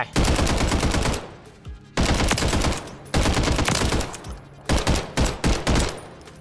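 Bursts of automatic fire from an MDZ 762 rifle in the video game Warzone, loud and close, with several long sustained volleys broken by short pauses and a final string of quick bursts.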